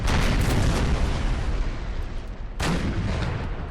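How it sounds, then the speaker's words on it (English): Artillery fire in Empire: Total War's American Civil War campaign, a dense rolling barrage of heavy booms with a fresh loud blast near the end, no voices. "We'll let artillery finish this one off."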